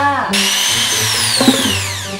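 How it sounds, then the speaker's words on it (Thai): An electric drill, used for spinning a watermelon, starts with a sharp high whine that slowly drops in pitch as the motor winds down, close and loud over a faint voice. "อุปกรณ์ชิ้นที่3นะคะสวานค่ะ"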